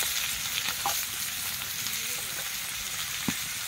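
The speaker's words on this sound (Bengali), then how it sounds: "এখানে যে আমি আলু কেটে রেখেছিলাম আলুগুলো দিয়ে দেব" Cut potatoes dropped into a pan of frying ginger with turmeric, a steady close sizzle with a few sharp clinks and stirring scrapes, no speech.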